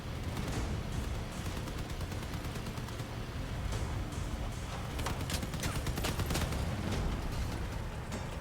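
Rapid gunfire from armed vehicles in the video game Crossout, dense repeated shots and bursts over a constant rumbling battle din, loud and continuous with sharper volleys toward the end.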